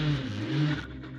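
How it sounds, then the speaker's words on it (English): A racing car engine revs briefly with a rising and falling tonal drone that drops away after under a second, heard fairly close. "So a little bit more revs."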